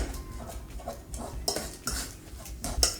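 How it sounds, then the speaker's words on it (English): A fork mashes banana in a bowl, making repeated scraping and clinking strokes against the bowl in an irregular rhythm, close and fairly clear, with no talk. "And then I just use a fork, you don't need anything complicated, and mush it all up."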